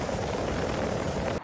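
Military police helicopter hovering during a flood rescue of a child from a rooftop, a steady loud rotor and engine drone that holds throughout and then cuts off abruptly.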